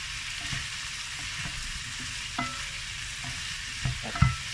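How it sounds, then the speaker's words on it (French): Lardons frying in a pan for a cooked salad, a steady close sizzle with a few clinks and scrapes of stirring near the end. "j'attends que les lardons cuisent un tout petit peu"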